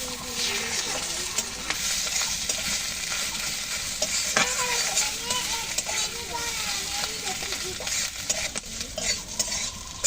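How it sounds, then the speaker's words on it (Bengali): Cumin paste, ginger paste and chilli powder fry in a pan for a moong dal vegetable khichuri, giving a steady close hiss broken by scraping stirs and small clinks, with faint voices underneath. "জিরা বাটা 1 চামচ, দিচ্ছি আদা বাটা 1 চামচ, আর হালকা দিয়ে দিলাম 1 চামচের মতো লঙ্কার গুঁড়ি। ভেজে নেব।"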